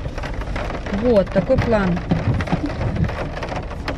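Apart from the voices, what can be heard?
rain falling outside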